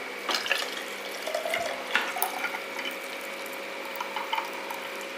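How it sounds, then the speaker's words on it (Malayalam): Homemade gooseberry juice is poured through a strainer with a soft, steady trickle and a few small splashes and drips. It is fairly quiet and close, with no voices. "ഇനി നമുക്കിത് അങ്ങോട്ട് അരിച്ചങ്ങോട്ട് ഒഴിക്കാം"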